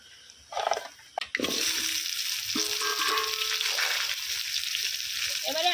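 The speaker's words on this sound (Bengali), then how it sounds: "এবারে মাছের ডিমটাকে উল্টি পাল্টি ভালো করে লাল লাল করে ভেজে নেবো" Fish roe fries in hot oil: a few clattering knocks and a burst of spitting, then a loud, steady crackling sizzle close up, with a brief scrape of turning near the end and no talk.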